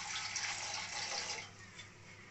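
Water pours steadily into a pot while jowar sankati is being prepared in a home kitchen, a soft continuous splashing rush that is fairly quiet, then thins slightly toward the end, with no talking.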